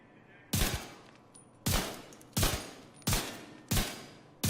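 Five loud, evenly spaced gunshots ring out in The Division 2, each a sharp crack with a short decaying tail, close and alone against quiet background.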